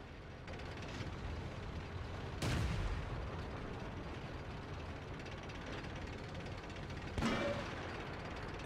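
Two sharp, loud impacts from tank shells striking a tank turret in World of Tanks, one near the start and one later, each a heavy bang with a brief ringing tail, over a constant low engine rumble.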